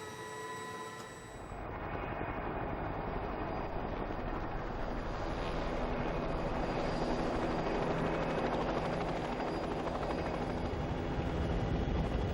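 A helicopter flies over a fault line during an earthquake survey. After a brief lead-in it settles into a loud, steady rotor and engine roar that holds without a break, with no voices.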